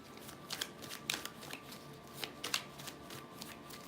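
A deck of tarot cards being shuffled, with a run of soft riffling bursts and several sharper snaps at irregular intervals, fairly faint and close, with no talking over it.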